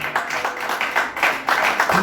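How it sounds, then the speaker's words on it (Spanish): A church congregation claps in quick rhythmic bursts of applause during a sermon, the claps repeating steadily over a couple of seconds with voices mixed in. "Dale un aplauso a Dios."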